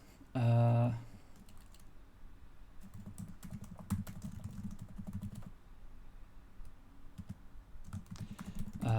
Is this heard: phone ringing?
no